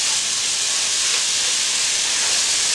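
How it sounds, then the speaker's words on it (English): Beef roasting with onions in a pan for masala steak, a steady loud sizzling hiss that runs unbroken and close throughout. "So I've got my meat roasting in there with the onions."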